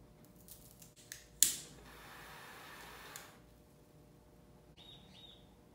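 A cutter snips the tip off a Rocky Patel Vintage 1999 cigarillo: one sharp, close click, then a soft rustle and faint background sounds.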